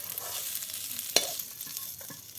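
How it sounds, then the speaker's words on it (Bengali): Fried duck eggs being stirred and sautéed in a pan: low steady sizzle with one sharp spatula clack and a few softer scrapes, close and brief, no talking. "এবার ভেজে রাখা ডিমগুলো দিয়ে দিল, এগুলো নেড়ে ছেড়ে একটু ভুনা ভুনা করে নেবে।"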